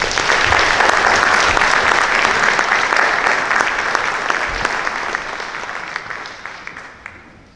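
A school audience gives a dense, sustained round of applause for seniors at a National Honor Society induction ceremony, loud and close at first, then slowly thinning into scattered claps that fade out near the end.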